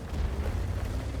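Rumbling artillery fire in World of Tanks, a dense low boom and roar that fills the whole short moment, loud and without any talk.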